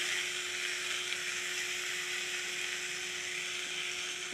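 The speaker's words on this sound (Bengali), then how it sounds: "এবারে এই মশলাটাকে ভালো করে আমরা কষে নেব" Spice masala with chili powder, ginger and salt sautés in a pan for a papaya, potato and chana dal curry, giving a steady, continuous hissing sizzle, close and even throughout, with no talking.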